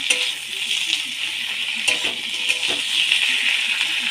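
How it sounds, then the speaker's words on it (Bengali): Onion and poppy seed paste frying in a pan, a steady bright sizzle with occasional clinks and scrapes of a utensil stirring against the metal, close and continuous throughout. "একটা বড় সাইজের পেঁয়াজ আর পঁচিশ গ্রাম মতো পোস্ত বেটে রেখেছিলাম ওটা দিয়ে দেব হালকা কষিয়ে নেব"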